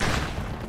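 A gunshot fired in a shooting video game, a single dense burst at full loudness that fills the whole short moment and stays heavy throughout, with no talk over it.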